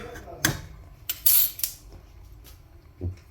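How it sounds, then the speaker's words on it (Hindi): Metal spoon clinking against a bowl while mixing aloe vera gel with lemon, a few sharp scraping taps spread across a quiet background with no talking. "ये अब मैं ये मिक्स करने लगी हूँ इन चीज़ों को"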